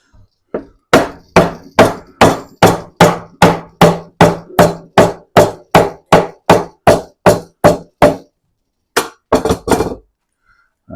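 Steady hammer blows, about twenty sharp strikes in an even rhythm, loud and close, then a short pause and a quick final flurry of hits.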